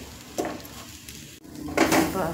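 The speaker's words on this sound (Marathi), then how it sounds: "गॅस मंद आचेवर ठेवून खोबरं छान असं ब्राऊन कलर येऊपर्यंत भाजून घ्यायचं आहे" Grated coconut dry-roasting in a pan over low heat for ukadiche modak filling, with scraping and clinking of a spoon against the metal pan in short bursts, and a faint voice in the background.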